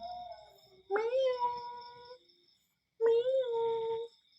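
A human voice imitates a cat with two drawn-out, plaintive meows separated by a short pause, close and clear.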